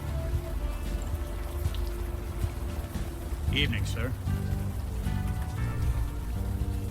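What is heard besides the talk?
rain falling in the video game Unavowed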